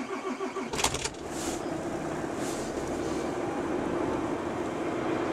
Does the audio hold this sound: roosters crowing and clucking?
no